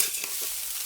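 Fried rice is stirred in a hot pan, village style, a brief close burst of sizzling hiss with quick scraping strokes.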